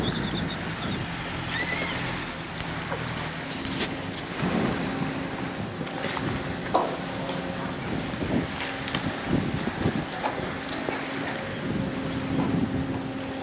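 A boat motors into the locks on the Cooper River in South Carolina, its engine rumbling steadily beneath gusty wind noise, with occasional knocks and thumps.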